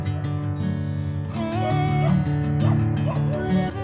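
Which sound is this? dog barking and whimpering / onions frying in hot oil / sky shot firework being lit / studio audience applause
dog barking and whimpering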